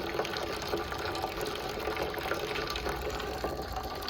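Maple sap draining steadily out of a container, a continuous close liquid trickle and gush with a constant rushing wash and slight splashing fluctuations throughout.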